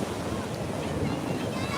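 Ocean waves wash onto a beach in a loud continuous roar of surf, with wind buffeting the microphone throughout.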